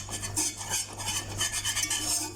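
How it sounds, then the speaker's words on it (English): A spatula scrapes down the sides of a pot of gram flour cooking for Mysore Pak, giving continuous, close, rhythmic rasping strokes with no talking. "Just try and scrape down your sides so that it all cooks"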